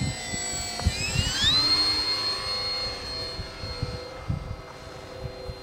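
A Durafly F4U Corsair RC model airplane makes a photo pass, its electric motor whine rising sharply in pitch as it sweeps close by, then holding a steady tone as it moves on, with wind noise rumbling throughout.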